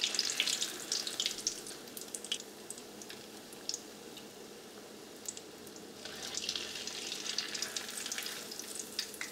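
Egg kabab coated in egg and breadcrumbs fries in hot oil, giving a soft, continuous sizzle with scattered bursts of crackling and popping, fairly quiet and close, with no voices.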